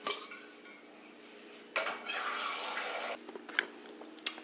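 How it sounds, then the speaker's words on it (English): Water runs into a cup from a kitchen tap in a home, a steady pour lasting a couple of seconds with faint clinks of dishes around it, fairly quiet and with no talking. "I'm going to fill up my water right now"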